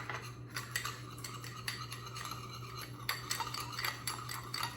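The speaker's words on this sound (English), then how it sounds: "all you do is you just get a spoon and you start mixing it" A spoon scrapes and clinks around a bowl, stirring sugar with orange-red food colouring in repeated gritty strokes over a low steady hum, with no voices.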